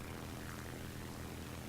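A fighter plane's propeller engine drones steadily in the War Thunder video game, a constant, faint, unbroken roar with no variation over the short stretch.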